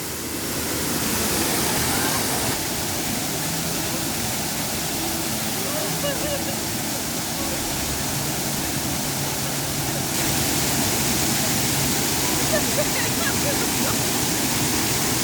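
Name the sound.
waterfall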